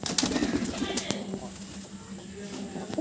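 Pigeons in a loft, with soft cooing and fluttering heard close by under a person talking, against a steady background hum.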